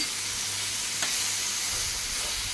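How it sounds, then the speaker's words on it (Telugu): Raw mango pieces stirred into a simmering brinjal and moringa sour stew in a pot, a steady hissing bubble and sizzle with a faint scrape of the spoon, continuous and close. "ముందుగా కట్ చేసి పెట్టుకున్న మామిడికాయ ముక్కలు కూడా అందులో వేసుకొని ఒకసారి కలిపి"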